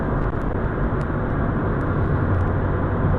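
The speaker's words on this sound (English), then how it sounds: "The noise in the car on highway speed, I removed the seat, so obviously it's a lot of it" Steady broadband road roar fills the cabin of a Toyota/Subaru FRS with its seat removed, cruising at highway speed, loud and continuous with no talk over it.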